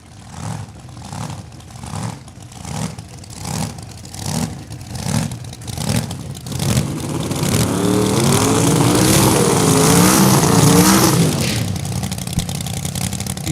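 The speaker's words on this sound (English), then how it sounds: "Butheris gets the Ratitude Camaro fired up and brings it up for the burnout" Ratitude Camaro funny car at a drag strip firing up for a burnout, a rhythmic pulsing idle that swells into a loud, continuous roaring rev with wavering pitch, close and dominant.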